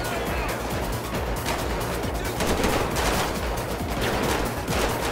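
Rapid automatic gunfire in the video game GTA 5 during a SWAT team shootout, dense continuous bursts filling the whole stretch at high, steady loudness with no pauses.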